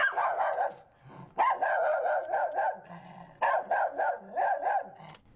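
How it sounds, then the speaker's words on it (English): A miniature schnauzer's barks, slowed and lowered in pitch, come in close, loud bursts of several rapid woofs each, separated by brief gaps with no talking. "Play the authentic miniature schnauzer. And so here's the pitched down version."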